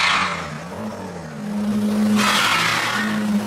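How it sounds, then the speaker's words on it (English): A car slides across ice with traction control switched off, its tyres squealing and skidding loudly under a steady engine drone, with a second burst of skid noise toward the end. "This is what happens when the traction control is switched off."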